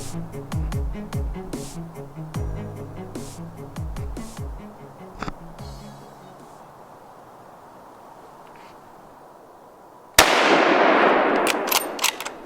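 A single loud rifle shot cracks out during a deer hunt in the woods of Central New York, sharp and close, following a stretch of buzzing insects and quiet outdoor ambience.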